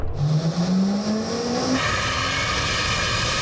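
A 1,000 horsepower hypercar at full throttle on a quarter-mile record run, its loud engine note climbing steadily in pitch before a shift into a sustained, roaring drone close by.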